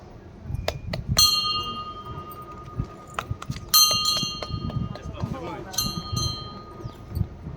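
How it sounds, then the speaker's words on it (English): Bright metallic bell rung in several separate sharp strikes, each ringing out briefly, mixed with scattered clatter and people talking in the background. "That's the bell, that's the bell."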